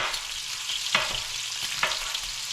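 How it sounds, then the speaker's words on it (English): Bacon frying in a skillet gives a steady close sizzle and crackle, with a couple of brief louder pops or stirring scrapes partway through; no one speaks. "I've got some bacon frying"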